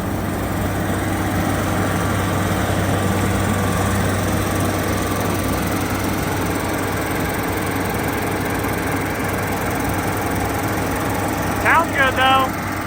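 A Massey 860 combine engine running steadily in a farm shed, a constant mid-level drone throughout, with a brief burst of louder sound near the end.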